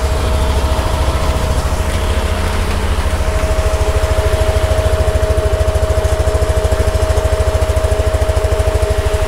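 A Yamaha Nmax v2 scooter engine idles steadily to warm up, a close, even, fast-pulsing putter with a constant hum, running alone without voices for the whole stretch.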